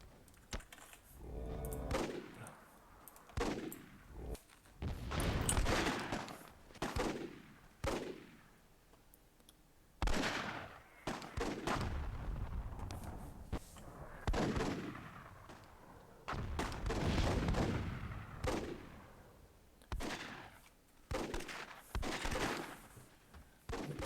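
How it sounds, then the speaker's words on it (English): Grenade blasts and battle noise in the fantasy strategy game Myth II: Soulblighter, with repeated sharp explosive bursts and crackling impacts arriving in irregular clusters, loud and close, with short gaps between them. "Oh, that's not a good nade."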